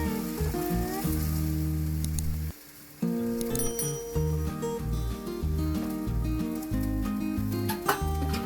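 A garlic dosa cooks on a griddle with sesame oil, a soft crackling sizzle running under prominent background music with a short pause partway through.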